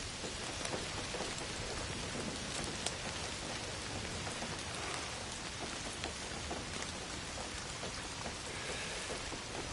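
Steady, heavy rain from the Indiana Jones video game, a dense continuous hiss of drops pattering on surfaces with no voices over it.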